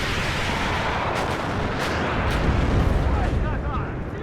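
Artillery barrages rumble continuously in a WARNO battle over a town, heavy dense booms layered into a loud, sustained roar with a few sharper cracks on top.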